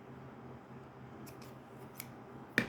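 Scissors cut through fabric for making Christmas yo-yos. A quiet indoor hum carries a few faint snips, then one sharp, crisp cut near the end.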